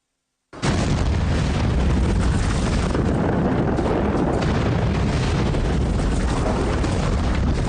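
A huge volcanic eruption, the Toba blast on Sumatra, is rendered as a sudden thunderous boom that swells into a sustained, loud rumbling roar continuing without a break to the end.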